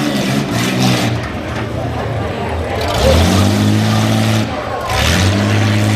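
Rough truck engine at a county fair rough truck event, revving hard in two loud surges with rising pitch, under continuous announcer talk.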